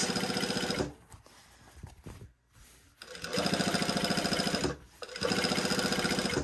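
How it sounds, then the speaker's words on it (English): Sewing machine top stitching a seam allowance to a jacket lining, fast even mechanical chatter in two long bursts separated by a pause with faint handling, close and steady. "I'm basically top stitching the seam allowance of both of these to the lining side"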